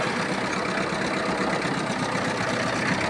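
A Kubota GT-3 mini tractor engine runs steadily with its PTO-driven soil tiller engaged, a constant mid-pitched mechanical drone close by and without speech.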